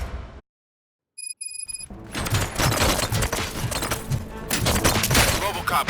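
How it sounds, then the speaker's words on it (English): Gunfire and combat noise in the RoboCop: Rogue City video game, loud dense bursts of shots and impacts filling the second half after a brief silence and a short electronic beep pattern. "Gunshots? What's going on?"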